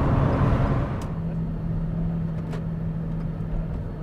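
Lotus Exige Sport 350 cruising on a motorway in sixth gear, a steady, continuous engine and road drone with a sustained low tone, fairly loud and close throughout.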